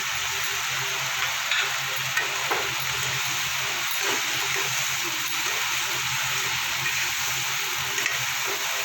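Whole garlic cloves frying in hot oil for a spicy cauliflower masala, giving a steady soft sizzle and crackle that runs evenly throughout, with no talking.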